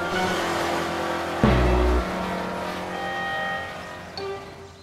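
Cartoon car zooming away after being stolen in a children's animated Christmas story, a revving engine with a sudden loud burst of acceleration, then a steady fading drive-off tone.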